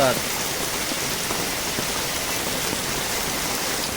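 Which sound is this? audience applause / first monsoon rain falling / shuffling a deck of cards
first monsoon rain falling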